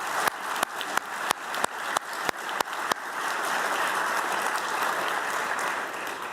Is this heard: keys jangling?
no